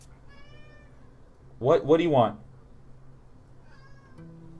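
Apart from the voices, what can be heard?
cat meowing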